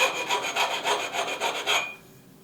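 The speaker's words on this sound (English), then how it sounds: "Put a nice little chamfer on that." A file rasping a chamfer around the cut end of an axle, about nine quick, even back-and-forth strokes, close and fairly loud, then stopping into near silence.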